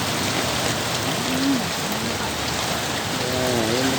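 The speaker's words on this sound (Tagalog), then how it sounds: "Malakas ang ulan." Heavy rain pours in a steady, dense hiss throughout, loud and unbroken, with a few faint tonal chirps and a voice-like murmur rising briefly in the background.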